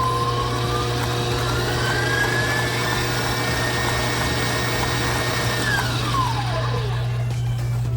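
Electric mixer whirring steadily at high speed through cheesecake batter, a loud continuous drone with a rising then falling pitch sweep near the end.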